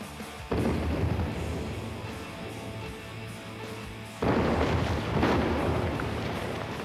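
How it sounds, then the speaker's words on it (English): Blasting in rock sets off two deep, booming explosions a few seconds apart, each a sudden loud roar that rumbles and fades slowly, heard at a distance with wind buffeting the microphone. "Fire in the hole!"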